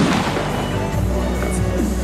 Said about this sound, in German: bei der Obelix ein kleines Finale mit drei Schuss mit 50 mm